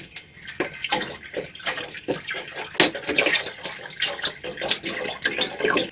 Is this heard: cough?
no